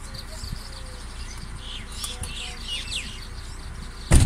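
Many birds chirp and tweet in Saint-Denis, Réunion, scattered calls at moderate distance over a low steady hum, ending in a sudden louder knock.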